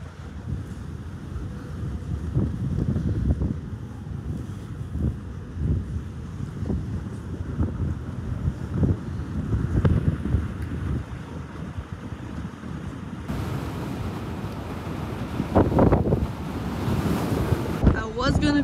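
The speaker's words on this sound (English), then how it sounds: "I don't know if you can hear it, but it's super, super windy." Strong wind buffets the deck of the Carnival Venezia cruise ship, a constant loud roar with gusts hitting the microphone and the sea surging beneath.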